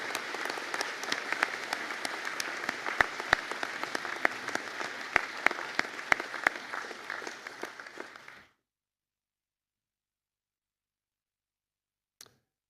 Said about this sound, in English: be upstanding for a round of applause